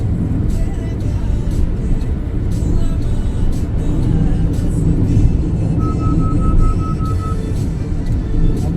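Busy highway traffic near a city in India, heard from inside a moving car as a steady, loud road rumble with passing vehicles and brief horn toots.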